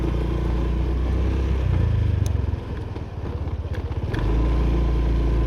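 A Honda PCX 150 scooter engine idles with a low rumble, briefly dips into a rough, sputtering patter, then settles back to a steady idle.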